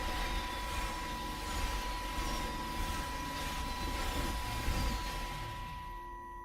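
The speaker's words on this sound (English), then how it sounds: "I can hear the jets coming." Jet planes roaring overhead in Everybody's Gone to the Rapture, a broad sustained rumble that swells and fades, with no talk.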